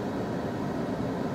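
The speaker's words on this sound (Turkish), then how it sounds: "Arabanın içinde klimayı açarak bir gürültü oluşturdum." A steady, even whoosh of air from a car's air conditioning fills the cabin, a constant broadband hiss with no other sounds.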